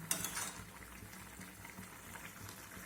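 Cauliflower, potato and soybean curry stirred in a pan, soft scraping and clinks of a spoon over quiet bubbling, fairly faint.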